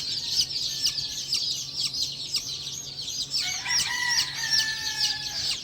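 Young chicks in a small brood chirp continuously in high, thin peeps while being given drops, with a few longer calls joining midway; no speech.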